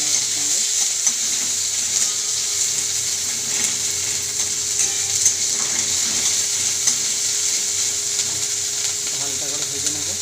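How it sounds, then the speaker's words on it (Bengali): Chopped onions sizzle and fry steadily in a pan of oil with dried chilli, a continuous close hiss with occasional stirring scrapes, while preparing masoor dal with onion and tomato. "পেঁয়াজ কুচি রেখেছিলাম সেটা দিয়ে দেবো"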